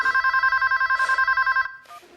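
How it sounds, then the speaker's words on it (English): A telephone rings in a movie scene in rapid, regular trills for about a second and a half, then stops, leaving a brief quieter tone after it. "but then he gets a mysterious phone call"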